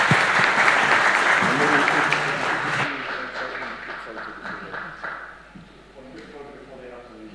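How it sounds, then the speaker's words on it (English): A conference ballroom audience gives the panelists a dense round of applause that fades gradually, while people talk over the tail end. "a huge round of applause for their involvement"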